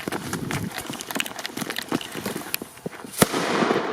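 A rapid, crackling string of New Year's Eve firecracker pops and bursts goes off continuously, with one sharper loud bang near the end.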